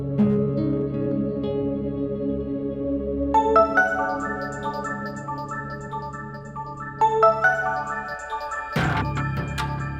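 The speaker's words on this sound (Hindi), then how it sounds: "किसका फोन है?" A phone rings with an electronic, tonal melody that steps between notes. It stays fairly loud and ends in a brief, noisier burst.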